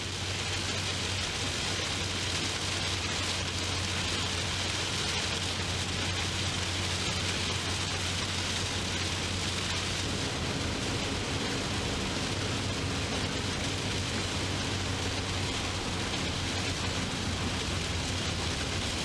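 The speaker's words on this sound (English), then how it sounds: "I haven't been in rain like this" Heavy rain pours down during a road trip near Bourke, a dense unbroken hiss drumming on a vehicle with a low steady engine drone beneath it.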